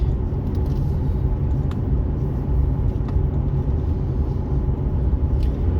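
A car drives along a road through a canyon state park, giving a steady, loud engine and road rumble from inside the vehicle with faint ticks and no talking.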